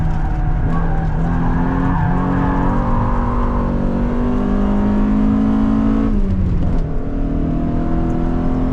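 A BMW E30 M3 race car circling Istanbul Park, its engine droning loud and steady with shifting pitch, then a brief dip and lift-off before the engine note climbs again, tyres faintly scrubbing.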